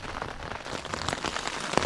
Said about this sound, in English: It's raining. We've had to shut our tents up